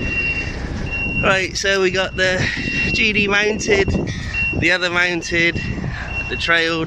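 Someone talks over gusty wind while a high, evenly spaced electronic beeping repeats in the background like a vehicle reversing alarm.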